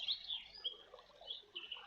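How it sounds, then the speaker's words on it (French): Birds chirp and call from the trees of a green forest, several short high tweets scattered through a soft, faint background with no talking. "Vous pouvez entendre les oiseaux dans les arbres."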